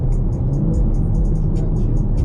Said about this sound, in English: you can hear the car